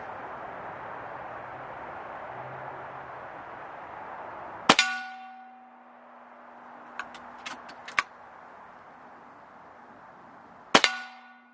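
A custom Kral airgun fires at a reactive metal target 15 yards away, giving a sharp metallic clang with a ringing tail, followed by a few small ticks and a second ringing clang near the end.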